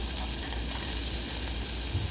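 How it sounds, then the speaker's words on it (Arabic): Chopped onion frying in about two tablespoons of oil in a pan, a steady close hissing sizzle with no talking. "ضفت ملعقتين طعام زيت وراح أضيف البصل شوية أذبله"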